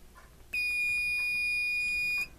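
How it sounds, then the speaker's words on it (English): A multimeter on its continuity setting beeps across a good fuse: one steady, high-pitched electronic tone that lasts about two seconds, close and clear over a quiet background. "if I connect it to my fuse here, it should beep if this is a good fuse."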